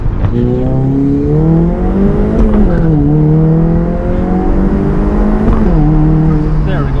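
Supercharged Honda CR-Z on a full-boost pull at 9 psi, its engine note climbing loud and steady through several gear changes with harmonic steps, while someone talks over it.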